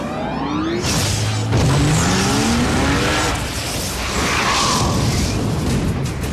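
Porsche 911 Carrera flat-six engine, 3.6-litre, revving loudly and continuously with rising and falling pitch sweeps as it accelerates and shifts, close and sustained, no talking.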